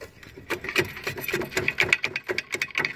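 Old rear brake pads on a 2003 Honda Odyssey are pried off a ridged rotor, giving close, rapid metallic scraping and rubbing strokes in an uneven rhythm, with no talking.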